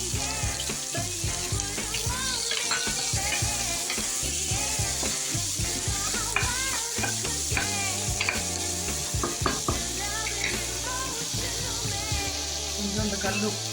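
Two medium onions and curry leaves frying in hot oil in a pan for prawn masala gravy, giving a steady sizzle throughout with stirring scrapes and clinks, fairly close and alone with no talk.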